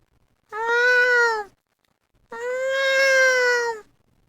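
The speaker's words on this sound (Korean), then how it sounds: "어디선가 고양이 목소리가 들려왔다." Two clear, loud cat meows play as a sound effect in a Korean audiobook, the first short and the second longer and drawn out, with silence between them and no talk.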